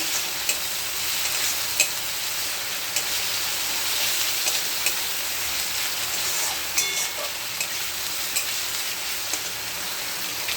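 Food mixed with salt and turmeric fries in oil in a pan, giving a constant close hiss and sizzle with scattered sharp clicks from stirring throughout.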